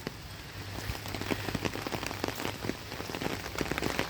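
Steady rain pattering on surfaces in a flooded rural area during the monsoon, with scattered drop impacts over a continuous hiss and a faint low hum underneath, heard alone without talk.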